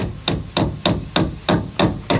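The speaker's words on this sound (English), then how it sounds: "biff that nail in too" Seven evenly spaced, sharp hammer blows drive a nail into a wooden veranda post while a bush banjo is being built, each strike close and loud with a short ringing decay.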